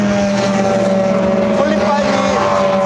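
Race cars pass at the Spa-Francorchamps circuit during the WEC 6 Hours endurance race, their engines a loud, steady drone that fills the whole stretch with a faint voice in the background.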